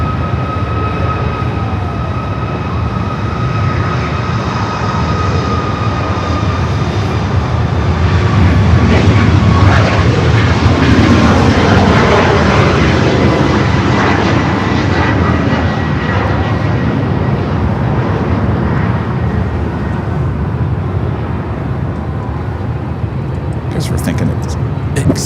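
Jet aircraft roar at LAX airport, a loud sustained engine rumble and whine that swells and fades during takeoff in gusty headwinds, with people talking over it throughout.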